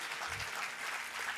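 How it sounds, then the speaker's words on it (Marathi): Audience applause welcoming tabla students of Pandit Suresh Talwalkar onto the stage at a Gurupournima concert, a dense, steady wash of clapping from a full hall with no talk over it. "सगळ्यांचं एकदा टाळ्या वाजवून आपण स्वरमंचावरती स्वागत करूया."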